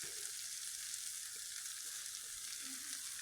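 Ground coriander and chili powder roasting in a hot pan give a steady, faint, even sizzle throughout, with a few soft stirring touches and no talk.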